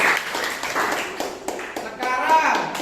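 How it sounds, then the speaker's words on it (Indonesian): Classroom applause from students clapping their hands for about three seconds, a dense patter of claps mixed with excited voices talking over it. "tepuk tangan bosku"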